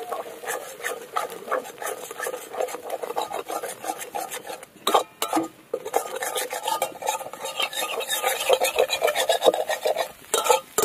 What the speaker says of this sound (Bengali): এই যে দিয়ে ডিমটা একদম পুরো ভুজিয়া করে ভেজে নিতে হবে।